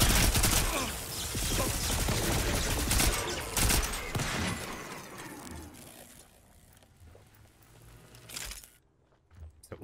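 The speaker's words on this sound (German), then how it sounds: "Ist ja unfair, die ballern schon mit Tesla-Waffen auf uns." Tesla weapons firing in the video game Volcanoids: a dense, loud barrage of crackling electric bursts for the first six seconds, then thinning to sparse, quieter shots and scattered mechanical noise.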